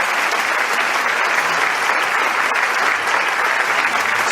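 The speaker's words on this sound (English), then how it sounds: "let us give another round of applause to former President de Klerk for his moving keynote" Dense, sustained applause from a large audience at a peace rally after a former president's keynote address, even and continuous throughout.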